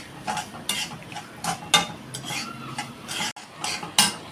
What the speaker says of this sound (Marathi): मी आता भाजून सगळं घेते चांगला लाल होईपर्यंत